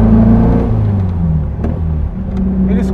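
Air-cooled boxer engine of a 1977 MP Lafer car revving close by, a loud throaty rumble that rises and dips in pitch over a few seconds.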